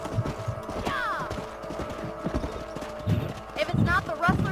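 Horses galloping in the video game Red Dead Redemption, with rhythmic hoofbeats and clip-clop throughout, a whinny and game characters talking over the top.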